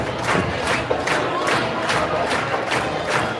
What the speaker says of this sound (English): the crowd's doing a pretty good job of cheering